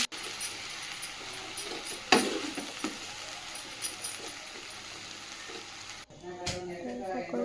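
Rice for fried rice fries in a pan with turmeric and salt: a soft, steady sizzle with a sharp utensil clack partway through, then a quieter stretch with light scraping near the end.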